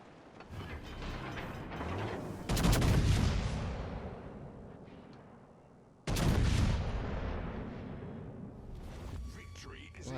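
Two heavy cannon salvos from the British battleship Rodney in a naval combat game, each a sudden loud boom followed by a long rumbling decay, with mechanical clanking in the gaps.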